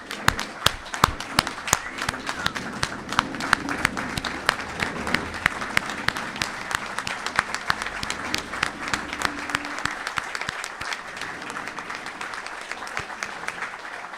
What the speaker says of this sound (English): All of you deserve a standing ovation